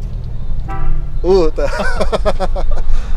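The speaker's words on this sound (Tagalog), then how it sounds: "Ang ganda ng busina, isa pa." An aftermarket car horn on a Toyota FJ Cruiser gives a couple of tooting honks close by, with a slight echo, followed by voices talking over the end of the sound.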